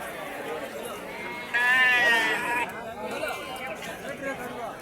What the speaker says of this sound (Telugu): పొట్టేలు పిల్లలంతా.